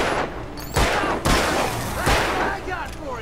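Bursts of gunfire in the Alan Wake video game, three heavy loud volleys with crackling, echoing tails, separated by short gaps, with game sounds underneath.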